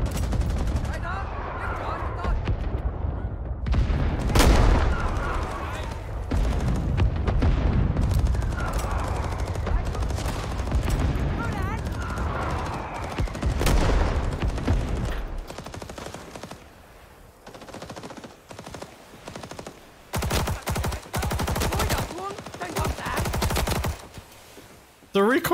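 Thompson submachine gun fire in the video game Rising Storm 2, set in Hue City, comes as loud repeated automatic bursts with sharp cracks, mixed with other gunfire and game noise throughout, with some talking in between.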